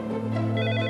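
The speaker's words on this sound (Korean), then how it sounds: "어느 저녁 늦은 시간에 걸려온 긴급 전화." A telephone rings with an urgent late-evening call, a bright steady electronic tone sounding continuously and fairly loud over a low hum.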